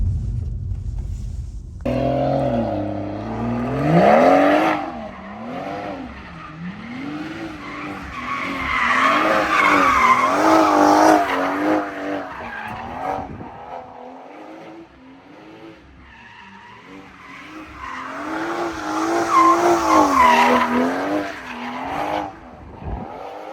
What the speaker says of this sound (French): Ah, tu veux faire quelques drifts?